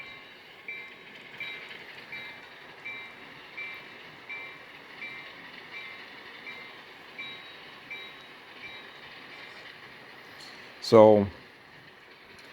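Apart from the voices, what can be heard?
Walthers model railroad transfer table moving during calibration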